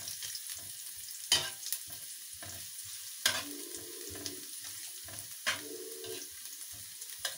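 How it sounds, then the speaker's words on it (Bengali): Chopped garlic fries lightly in hot ghee with a soft, steady sizzle, broken by a few louder scraping stirs of a utensil in the pan and no voices. "হালকা একটু ভেজে নিব"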